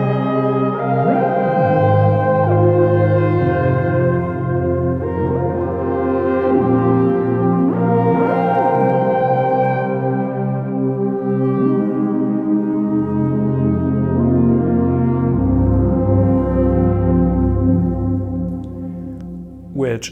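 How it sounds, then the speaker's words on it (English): A Prophet Rev 2 synthesizer patch recreating the Yamaha CS80 sound plays lush, sustained polyphonic chords with slow swells and shifting harmonies, loud and alone, ending with a brief cutoff. "let's lastly check out what I did on the Prophet Rev 2."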